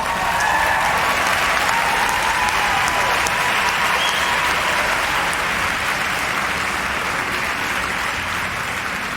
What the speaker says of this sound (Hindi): तालियों से स्वागत कीजिए हमारे नए history professor, professor Naeem Hussain का।